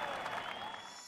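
Golf crowd applauding at Royal Melbourne during the Presidents Cup, a steady wash of clapping and crowd noise that holds throughout the short stretch and tapers slightly at the end.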